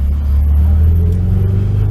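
A Ferrari or Lamborghini on a race track gives off a loud, steady low engine rumble that holds close and continuous for the whole stretch, with no talk over it.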